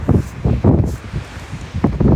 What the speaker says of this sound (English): It's windy as fuck up here.